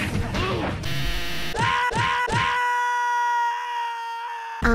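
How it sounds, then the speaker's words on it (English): Cartoonish screams from Sprunki, an Incredibox-style video game, ring out loud and piercing in several quick bursts, ending in one long drawn-out wail over layered game sounds. "they screamed so loud you must be scary"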